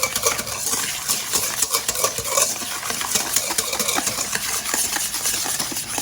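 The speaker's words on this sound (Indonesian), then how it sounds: "Ini kita aduk-aduk sampai gulanya larut." Sugar and eggs are stirred in a bowl for Betawi biji ketapang cookies, making rhythmic close scraping and clinking strokes of a utensil against the bowl, repeating steadily with no talking.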